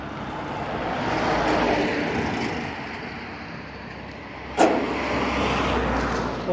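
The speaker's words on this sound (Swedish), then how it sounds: "Det är ganska mycket trafik på lokalvägen." Cars passing on a local road across farmland plains, a steady broadband traffic rush rising and falling, with one sharp knock midway; no talk.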